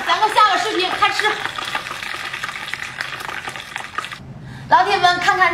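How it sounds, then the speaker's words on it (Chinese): Hot oil bubbles and sizzles steadily in a pot while a bamboo weevil fries, close and continuous, with someone speaking over most of it. "让它再沸腾一会儿"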